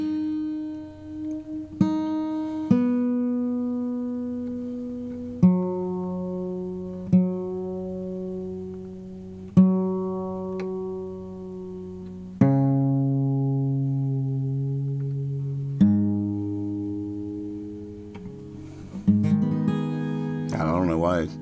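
Guitar with a capo being tuned, single plucked notes ringing out one at a time with long decaying sustain, several separate plucks spread across the clip and a brief strum near the end.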